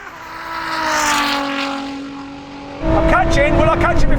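Ferrari SF90 and a 1000 hp Nissan GT-R in a drag race, engine tones climbing steadily as the cars accelerate, then a louder, rougher surge of power near the end, with a voice talking over it.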